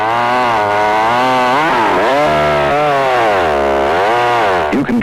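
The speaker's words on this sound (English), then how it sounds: "The new EZ is the lightest chainsaw Homelite ever built." A Homelite EZ, a lightweight gasoline chainsaw, runs loud and continuous, its two-stroke engine revving up and down in waves before easing off at the end, with no voices.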